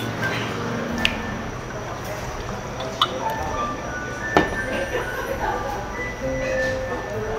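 Glasses of 38-proof kaoliang liquor clink in a toast at an afternoon meal in Taiwan. A few light, bright clinks sit under steady chatter and table noise.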